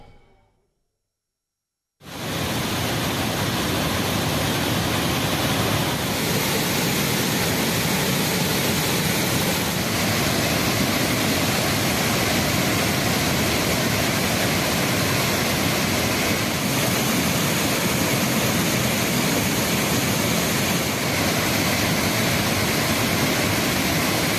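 Thirparappu waterfall thunders under an unusually heavy flow, a loud, continuous broadband roar that starts abruptly after a brief silence and holds steady without any voices.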